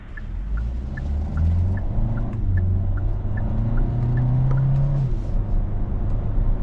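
A 2025 Hyundai Kona Limited AWD SUV with a regular 8-speed automatic, its engine rising and dropping in pitch across several quick paddle shifts, heard from inside the cabin with a faint repeating chime.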